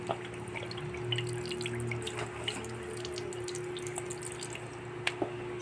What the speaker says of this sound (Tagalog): Hugasan na mabuti na pa yung bigas sa tubig.